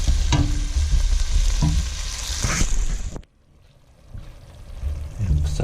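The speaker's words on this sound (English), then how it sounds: "we'll just let that fry for" Curry spices sizzle and fry in a pan for a potato dum aloo, a steady loud crackle with a few clinks of a utensil, briefly dropping quiet before the frying noise returns.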